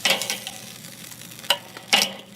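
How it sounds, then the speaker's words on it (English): Black-garlic chicken wings sizzle directly over hot coals on a smoker grill, a close crackling fry broken by sharper pops and bursts of spitting fat, with no voices. "The fire has subsided enough where I can now cook them directly over the coals."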